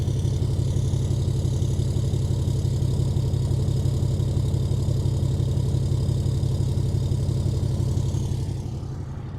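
A diesel truck fitted with a 5-inch exhaust kit and muffler idles with a deep, steady, throbbing rumble close by, dropping off slightly at the very end.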